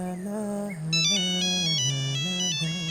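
A mobile phone ringtone plays a bright, repeating electronic melody, loud and close, with a steady low tone under it and no talk over it.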